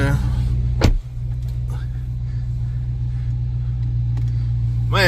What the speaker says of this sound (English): I'm gonna pull the car up a little bit so we can see exactly what they did.